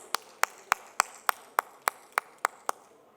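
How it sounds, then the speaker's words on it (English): A small audience applauds a panelist at a packaging and branding event, heard as about ten evenly spaced, sharp, separate claps in a sparse rhythm, fairly faint with no talking. "a huge round of applause for Abhishek"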